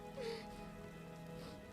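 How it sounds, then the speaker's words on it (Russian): Rain begins in the video game Quantum Break, a faint, soft hiss of drops spreading evenly across a surface, with a brief quiet voice-like tone near the start. "Дождь пошел."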